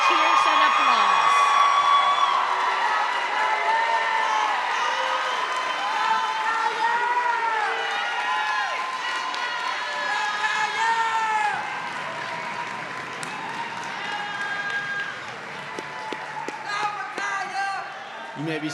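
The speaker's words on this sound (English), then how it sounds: "Let's congratulate all of our graduates with cheers and applause." A fall commencement crowd greets its graduates with sustained applause, cheering and scattered whoops that fill the hall. The clapping runs loud and continuous, then slowly thins toward the end.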